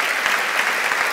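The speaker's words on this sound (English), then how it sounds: "I'll let you get your applause with it." Audience applause after a public dialogue between a physicist and a philosopher, a steady dense wash of clapping from a large hall crowd, loud and continuous with no voices over it.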